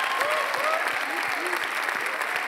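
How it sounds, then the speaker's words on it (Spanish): A church congregation gives loud, sustained applause for a comedian at a special service, a dense, close wash of clapping with voices mixed in. "Aplauso fuerte, JR."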